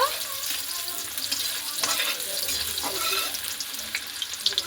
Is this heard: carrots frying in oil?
yes